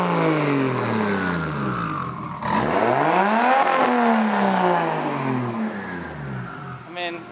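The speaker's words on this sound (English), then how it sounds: "He's gonna rev it for us and show us what it sounds like." A Toyota Supra fitted with a Tomei exhaust revs hard and close, its engine note climbing and falling through repeated throttle blips, loud and continuous throughout.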